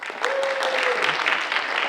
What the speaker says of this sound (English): So this is Mrs. Roney, applause